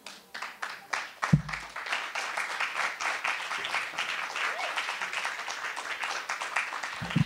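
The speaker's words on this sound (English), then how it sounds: "Everybody give him a big round of applause." An audience at a literary reading celebrating writers of color gives dense, sustained applause after a few scattered early claps, steady and fairly distant.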